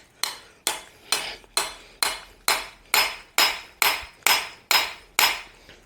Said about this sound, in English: We're just going to hammer into these multi-splines